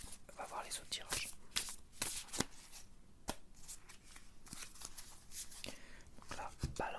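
Tarot-style cartomancy cards are shuffled and drawn in a quiet, close setting, giving soft papery riffles and flicks with sharp card snaps recurring through the stretch, with no talking over them.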